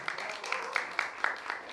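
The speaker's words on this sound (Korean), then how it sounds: "박수 좀 부탁드릴게요" Audience clapping at a live magic show, a steady patter of hands with sharper individual claps standing out, moderately close and fairly quiet, lasting under two seconds.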